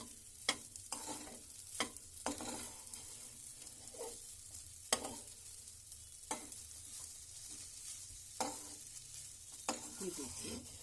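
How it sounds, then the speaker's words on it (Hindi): Broken wheat dry-fried on a low flame in a kadai gives a soft, faint sizzle, with a spatula scraping and stirring at irregular intervals and no talking. "इस तरह से इसको लगभग 5-6 मिनट तक इस तरह से आप इसको लो फ्लेम पर फ्राई करते रहेंगे।"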